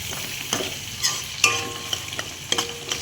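Potatoes fry in a pan with a steady close sizzle, broken by light scraping stirs at intervals, and no voices.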